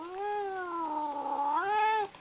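A cat yowls at the camera in one long, drawn-out caterwauling meow that rises and falls in pitch, close and clear against a quiet room.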